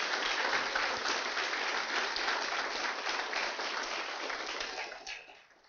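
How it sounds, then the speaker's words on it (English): An audience at a hackathon gives sustained applause for the sponsors, a dense even wash of clapping that gradually thins and fades toward the end. "So let's give them a round of applause."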